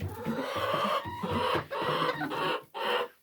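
Hens cluck and chatter close by in repeated bursts, one speckled hen especially talkative, with short pauses between the loud runs of calls.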